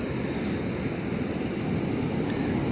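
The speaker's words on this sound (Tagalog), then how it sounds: "Ang lalaki ng hampas ng alon." Strong ocean waves surge against the shore in a continuous broad wash of surf, steady and fairly loud, with wind across the microphone and no voices.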